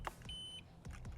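A single short electronic beep from programming keys on a 2022+ Ultra 310 sounds faintly amid quiet background noise, followed by soft clicks.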